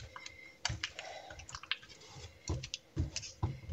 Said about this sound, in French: Je vais couper des petits bouts de lessive.